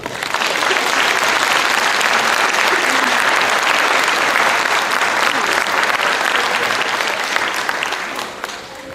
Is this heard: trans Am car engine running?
no